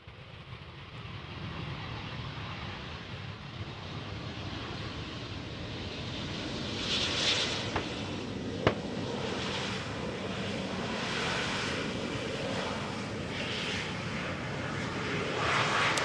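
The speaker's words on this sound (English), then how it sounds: "an Embraer 190 arriving from Prague. Touches down" A 13-year-old Embraer 190 arriving from Prague touches down at Amsterdam Schiphol, a sustained broadband engine roar and rushing rumble heard at a distance, swelling slightly toward the end with a brief thump midway.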